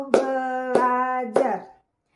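Three sharp hand claps land about half a second apart during a class clap chant in an elementary lesson, each paired with a sustained chanted voice tone, before the sound stops.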